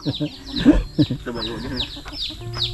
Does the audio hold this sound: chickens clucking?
yes